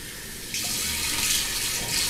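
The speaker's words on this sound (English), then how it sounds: "I'm going to rinse one more time with cold water" Cold tap water runs steadily from a bathroom faucet into a sink for rinsing a freshly shaved face, a close, continuous splashing hiss that swells after a brief quieter start.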